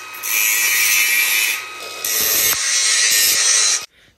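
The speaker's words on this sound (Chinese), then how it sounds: "用角磨机呢可以裁切，用多长留多长，其余的可以切掉" An angle grinder cuts through an extended plumbing elbow fitting, producing a loud, shrill, sustained whine that shifts in pitch as the blade bites. It briefly dips midway, then resumes until it cuts off abruptly near the end.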